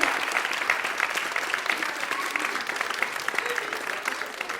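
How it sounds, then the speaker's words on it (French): A school audience applauds a third-grade class play about Olympus, bright continuous clapping from a crowd filling the whole span at an even, lively level. "Applaudissez très fort Benjamin dans le roi d'Hermès."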